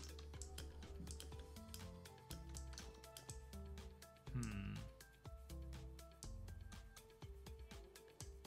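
A sheep bleats once amid constant ticking game sounds and music in the video game Kingdomcraft, the bleat brief and rising over the busy background.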